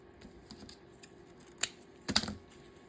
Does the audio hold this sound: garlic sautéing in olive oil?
no